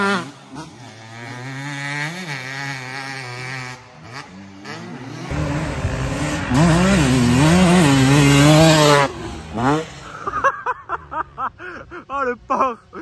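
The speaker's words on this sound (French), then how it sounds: "Le bruit du deux temps, mais qu'est-ce que je kiffe!" Two-stroke motocross bikes whine and rev nearby on a beach track, pitch rising and falling as the bikes pass, with voices talking over the noise and a choppy burst of revs at the end.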